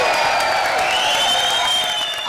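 Continuous audience applause and cheering at a comedy stage show, a dense steady wash of clapping with whistle-like tones running through, loud and close throughout.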